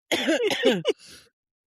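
A close, raspy burst of coughing and throat clearing, several harsh pulses in quick succession, ending with a breathy exhale.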